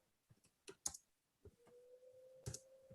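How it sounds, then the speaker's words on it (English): Typing on a computer keyboard: a few scattered, quiet clicks and taps close by, irregular in rhythm, with a faint steady hum underneath. "So let me just type it."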